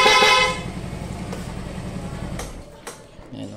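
A short, loud horn toot from a Yamaha Fazzio scooter sounds at the start, followed by engine hum and a few faint clicks.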